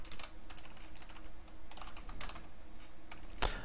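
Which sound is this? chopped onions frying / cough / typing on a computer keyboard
typing on a computer keyboard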